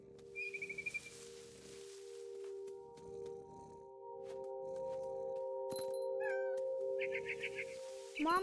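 A cat meows briefly in the video game What Remains of Edith Finch, amid a steady musical drone, with scattered chirps, clicks and soft rustling around it.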